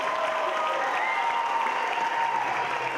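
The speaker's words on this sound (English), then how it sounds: "Let's give them one more round of applause for everybody tonight." Audience applause at a school winter concert, sustained even clapping from a large crowd throughout, with a faint tonal hum underneath.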